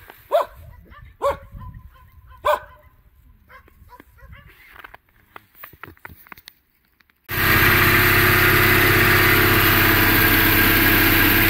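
Oka engine of a homemade all-terrain vehicle idling while it warms up, a loud steady mid-pitched drone that starts abruptly partway in, after faint distant dog barks and quiet night sounds.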